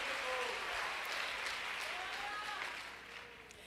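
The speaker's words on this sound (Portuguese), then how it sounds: "se vocês querem aplaudi-lo, faça" A church congregation applauds during a sermon, a broad wash of clapping mixed with voices and cheering that fades slightly toward the end.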